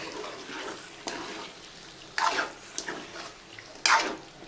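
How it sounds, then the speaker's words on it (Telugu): Chicken pieces sizzling over high heat in a pan for dhaba-style chicken curry, a soft steady frying hiss broken by a few brief louder stirring scrapes and spits. "హైలో పెట్టడం వల్ల చికెన్ మంచిగా ఫ్రై అయ్యి బాగుంటుంది"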